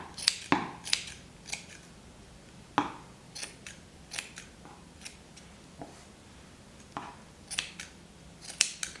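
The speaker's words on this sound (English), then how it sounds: "Now what you got to do is trim it up and get it a nice shape." Scissors snip around a yarn pom-pom, sharp close cuts landing irregularly about once or twice a second with soft rustling between, and no voices.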